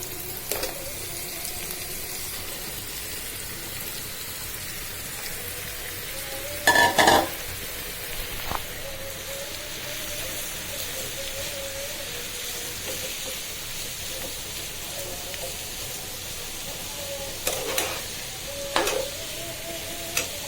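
Radish pieces coated in turmeric and salt frying in a pan, a continuous low sizzle broken by a few sharp bursts of stirring and scraping, close and without speech.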